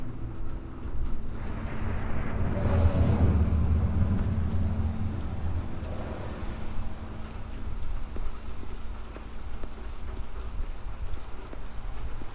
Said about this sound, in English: I like how the rain is getting harder